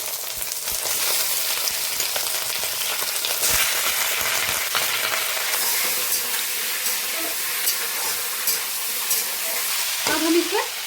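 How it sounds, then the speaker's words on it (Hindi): Chicken dropped onto fried onions in a hot pan gives a loud, continuous sizzle and hiss with stirring scrapes, steady for the whole stretch, with a brief clatter near the end. "अब हम इसमें डालते हैं चिकन।"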